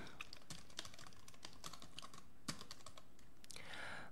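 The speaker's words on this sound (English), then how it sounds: "Typing in my demo account details." Computer keyboard typing at a desk, quick uneven runs of close, light key clicks with a few louder strikes, quiet and alone without talk.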